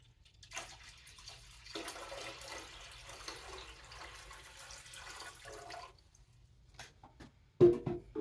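Water pours steadily into a canning pot holding jars, a continuous rushing flow that stops near the end, followed by a brief clunk.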